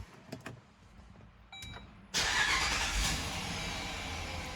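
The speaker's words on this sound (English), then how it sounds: "let's start up the vehicle, make sure we got the job done successfully" Jeep Grand Cherokee WK2 starting after a battery replacement: a few faint clicks and a short electric whir, then the engine cranks and catches into a steady, close idle, with no talking.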